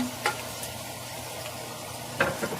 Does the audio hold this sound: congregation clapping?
no